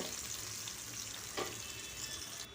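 Potato pieces frying in a pan with a steady close sizzle and a few soft stirring scrapes, cooked ahead of aubergine and tomato for a hilsa fish curry.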